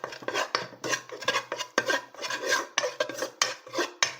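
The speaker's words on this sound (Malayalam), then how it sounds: "അത് രണ്ടും ഇട്ട് നല്ലതായിട്ട് ഇളക്കുക" A utensil stirs an egg mixture with salt and Kashmiri chili powder in a bowl. The scraping and clinking strokes are brisk, rhythmic and close, continue throughout, and come with no talk.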